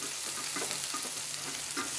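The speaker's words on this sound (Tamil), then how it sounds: "வெங்காயம் நல்லா வதங்கிருக்கும்" Steady broadband sizzle of onions and curry leaves frying in a hot pan for a raw banana dish, continuous and close, with faint stirring scrapes and no voices.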